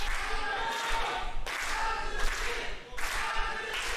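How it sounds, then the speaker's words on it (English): A wrestling crowd in Korakuen Hall claps in unison and chants for Hazuki during a Stardom match, a dense, reverberant roar in repeating waves. "The crowd chanting for Hazuki!"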